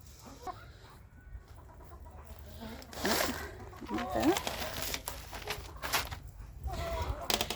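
Chickens cluck and murmur inside a coop with egg-laying boxes, a cluster of short calls mid-clip over rustling and low background noise, while a person talks.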